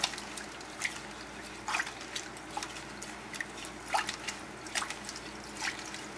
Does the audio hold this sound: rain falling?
no